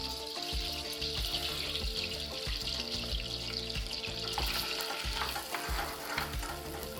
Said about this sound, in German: kommen die Zwiebeln hinein.